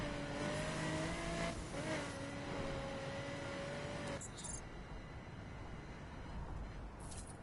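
Car engine in the driving game The Crew, a loud steady revving drone with a pitch that shifts and then cuts out, leaving a rough rushing road and tire noise.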